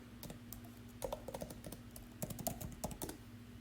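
Typing on a computer keyboard while working in the Canva design tool, a quick run of light, close clicky keystrokes in irregular bursts over a steady low hum, with no voice.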